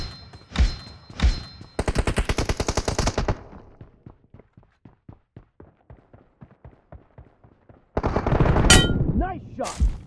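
Gunfire rattles through a mobile shooter video game: two single loud shots, a rapid automatic burst, a long run of spaced lighter shots, then a dense loud volley mixed with other game effects.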